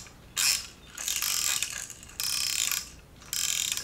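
A ratcheting baby rattle clicks in quick bursts, four rapid runs of dry ratchet clicks close by, separated by short pauses.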